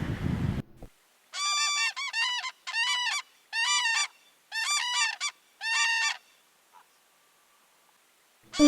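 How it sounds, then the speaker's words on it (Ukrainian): A crane calls in a rapid series of loud, clear trumpeting cries grouped in six close bursts, near and alone, with quiet gaps between them and no other sounds. "Журавель зимуючий чи перелітній птах?"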